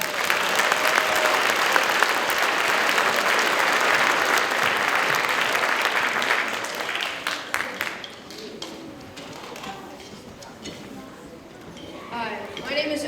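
Audience applause at a middle school winter band concert, dense and loud for about seven seconds before thinning into scattered claps, with talk heard as it fades.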